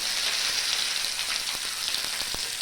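Curry leaves hit hot oil for a spicy thuvaiyal, a bright continuous sizzle up close with a few sharp crackles and pops scattered through it, heard without any voices.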